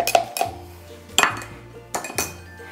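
A spoon scrapes and clinks against a blender jar while rempah spice paste is scooped out, making a few sharp metallic knocks spaced apart over a quiet background hum.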